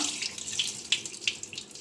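Water pours from a tap over herbs being washed, a continuous bright splashing with small irregular spatters, close and fairly soft.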